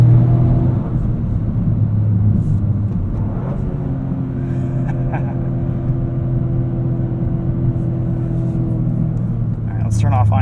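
The engine of a 2023 Toyota GR Corolla during street driving, with a steady low drone from the cabin at moderate revs and a slight swell near the end.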